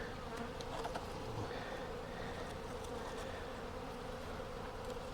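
Bees buzzing at a beehive, a dense, steady hum of many insects close by, continuous and even in loudness with no talk.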